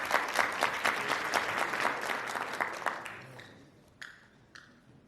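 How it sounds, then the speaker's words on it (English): Conference audience applauding at a wellness and lifestyle medicine continuing legal education event, a dense burst of many hands that thins out and fades over about three seconds, with a few scattered late claps trailing after. "So give yourselves a big round of applause."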